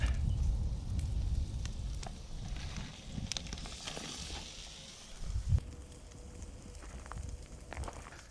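Steak skewers cooking on a grill over an open campfire just after being turned, a steady crackle and faint hiss of fire and searing meat with occasional sharp pops, heard alone with no voices.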